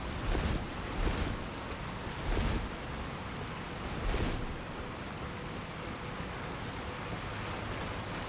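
A waterfall rushes steadily in the Elden Ring video game, a constant broad wash of water noise with a few brief louder swells in the first half, heard on its own at low level.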